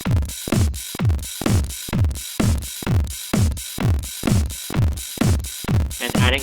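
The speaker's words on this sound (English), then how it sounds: "Drum part sounds like this." An EDM electronic drum beat plays on its own: punchy kick and snare hits in a steady, even groove, with crisp hi-hat ticks between them.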